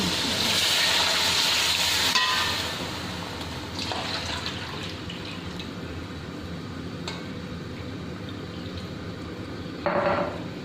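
A loud hiss of sizzling erupts as water hits a hot pot of fried spices and boiled black chickpeas for pulao, then settles into a steady, softer bubbling simmer.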